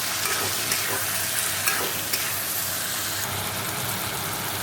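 Rajma (kidney beans) being stirred and mixed in a hot frying pan, a steady close sizzle with scraping spoon strokes and occasional clicks against the pan, no voices.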